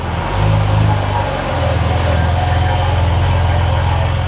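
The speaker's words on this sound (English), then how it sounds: "That FI exhaust is so good." A car engine with an aftermarket FI exhaust rumbles loudly with a deep throaty note, rising in a short rev before settling into a steady low drone.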